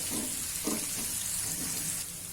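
Onion and garlic pieces fry in a pan of hot oil for masala rice, with a constant close sizzle broken by a few stirring scrapes and no talking.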